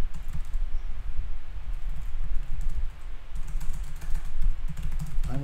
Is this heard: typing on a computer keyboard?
yes